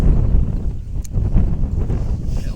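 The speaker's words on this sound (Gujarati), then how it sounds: "પવન છે ભાઈ જોરદારનો" Strong wind buffets the microphone in a loud, low, continuous rumble with gusty surges.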